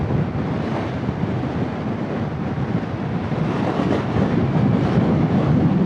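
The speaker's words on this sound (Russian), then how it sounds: "Ветер ужас, ужасный ветер." Strong wind buffets the microphone on a motorcycle trip near Stuttgart in a continuous, rumbling roar, loud and unbroken throughout, with no voices heard.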